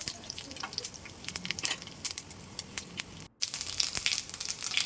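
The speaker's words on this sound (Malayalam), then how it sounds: "ഇനി ഇതിലേക്ക് 1/2 ടീസ്പൂൺ കടുകൊന്ന് പൊട്ടട്ടെ" Half a teaspoon of mustard seeds pops and splutters in hot oil with sliced small onions in a pan for a Kerala sambar tempering, with a steady sizzle broken by frequent sharp crackles, close and fairly loud, no talking.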